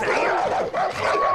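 Hostile killer dogs barking and snarling in the video game Far Cry New Dawn, a brief close run of harsh barks with some voice mixed in.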